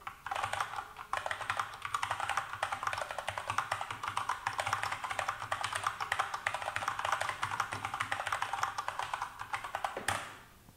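Steady, rapid clicking of mechanical keyboard keys, close and continuous for about ten seconds, stopping abruptly near the end.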